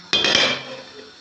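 A metal lid clanks down onto a pot with a short ringing rattle, then fades quickly; close and fairly loud, no talking.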